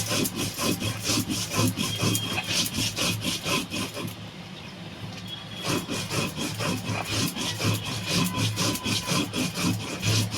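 Spice paste is ground on a traditional shil nora grinding stone, a close, steady back-and-forth scraping rub in a fast, even rhythm, briefly pausing midway before resuming, with no talking.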